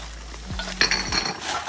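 Empty cans being put away for recycling, clinking and clattering metallically in a short close burst of knocks and rattles over a steady low hum.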